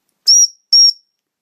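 Two short, shrill whistle blasts in a row for a dog's recall, bright and steady-pitched, with quiet between and after them.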